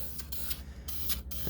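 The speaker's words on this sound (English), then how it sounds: "we'll just start spraying it on there" Spray paint hissing from an aerosol can onto a car exhaust, in several short broad bursts of a second or less, close and fairly loud against a low steady background rumble.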